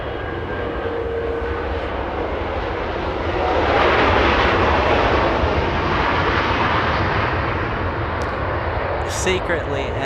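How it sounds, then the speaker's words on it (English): A Southwest Airlines jet arriving from Hawaii lands on runway 24 left at Los Angeles International Airport, a loud sustained engine roar that swells midway and then holds, with people talking underneath. "Southwest Airlines 126 flying in from Hawaii. 5-hour flight for this one. On runway 24 left"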